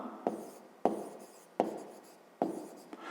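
Pen writing on paper in a school maths exercise, four short scratchy strokes in an uneven rhythm, each starting sharply and fading, close and quiet.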